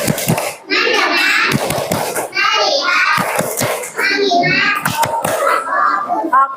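Second-grade schoolchildren in a classroom chant together while clapping a quick rhythmic focus pattern, the sharp claps landing in bursts among their voices.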